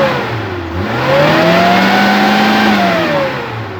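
Suzuki Carry hybrid petrol/LPG car engine revving up, a loud close rising-and-falling engine note held for a few seconds, no talk.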